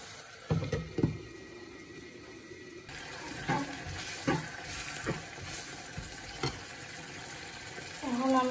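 Onion frying in a pan with salt, a soft continuous sizzle broken by a few scraping stirs and clatters of a utensil, close and fairly quiet.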